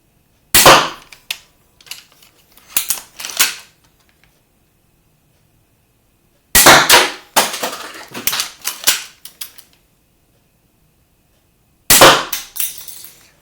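A 90 lb Steambow crossbow is cocked and fired in three loud, sharp bursts of clacks and snaps with silent gaps between them, close to the microphone.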